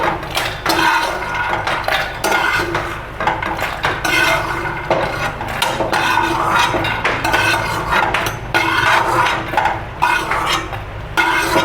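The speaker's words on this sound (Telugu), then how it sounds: "ఇప్పుడు నేను దీంట్లో తీసేస్తున్నాను మిక్సీ జార్లకి" A spoon scrapes fried ingredients out of a pan into a mixer jar: a steady run of metallic scrapes, clinks and knocks, close and loud, with no talking.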